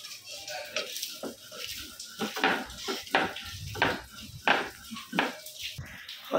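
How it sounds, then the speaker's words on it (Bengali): Chili is ground by hand into a paste for a dried-fish mash, heard as repeated rhythmic scraping and knocking strokes, close and fairly loud, with a voice talking intermittently. "এখানে যে মরিচ বাটা হচ্ছে"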